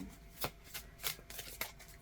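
A deck of tarot and Lenormand cards riffled and shuffled by hand, a quick run of crisp papery flutters and slaps, close and fairly quiet, with no talking.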